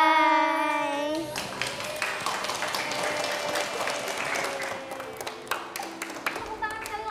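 Audience applause for a children's story performance at an elementary school event, a sustained wash of clapping that follows a held musical tone and fades slightly toward the end, with some voices mixed in.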